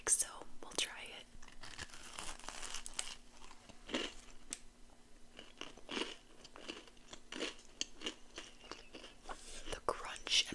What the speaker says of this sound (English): The crunch and the cinnamon and the brown sugar in the cookie base is perfection.